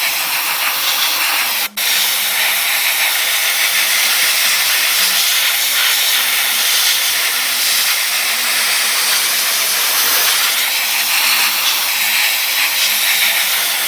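An airbrush compressor blows a continuous loud hiss of air to dry custom flame paint on a Dodge Magnum, steady throughout with one brief break early on.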